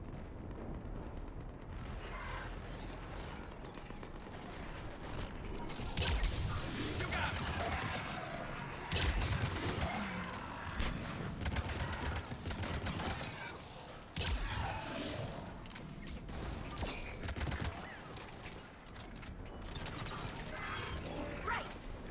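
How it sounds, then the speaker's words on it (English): Distant artillery and battlefield gunfire rumble continuously in a Mass Effect combat scene, a dense wash of booms and mechanical clatter lasting throughout. "There's the artillery."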